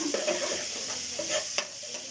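Green chillies drop into dal in a home kitchen. The dal sizzles steadily in the pan while a spoon scrapes and stirs in short, close strokes.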